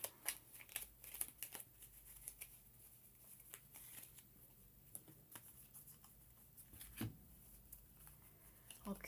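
Cards being shuffled for the solo print-and-play board game Terajoules, a soft riffling and crinkling of paper close by, with brief taps and rustles throughout.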